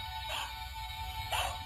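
Toy dog backpack clip giving two short electronic barks, spaced about a second apart, against a quiet background.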